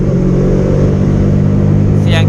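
A steady, loud Honda CBR150R motorcycle engine with an aftermarket exhaust rumbling at a constant idle, with a brief higher whine near the end.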